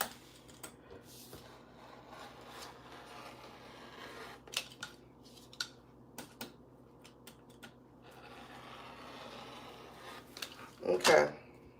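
Scissors snipping through thin, lingerie-like fabric trim in a quiet room, a scattering of short crisp cuts spaced across the stretch, then a louder cluster of snips near the end.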